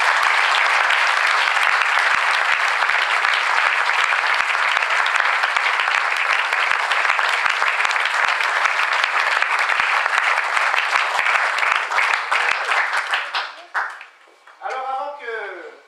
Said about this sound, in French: je demande qu'on applaudisse les membres